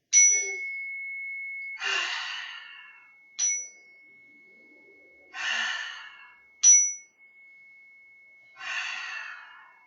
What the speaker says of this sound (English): We'll take 3 deep breaths together with the chime.